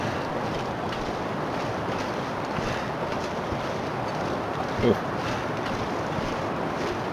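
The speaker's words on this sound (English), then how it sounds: "on second thought, I guess it is pretty windy." Wind blowing in The Long Dark video game, a loud, steady broadband rush of gusty wind that fills the whole stretch with little variation, while a voice briefly reacts.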